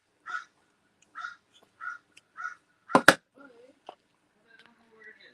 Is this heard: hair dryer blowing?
no